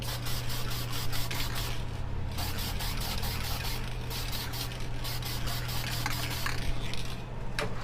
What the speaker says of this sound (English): first thing I'm going to do is hit this with some adhesion promoter